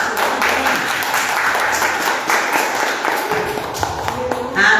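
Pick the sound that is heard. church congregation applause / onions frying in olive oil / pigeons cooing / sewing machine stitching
church congregation applause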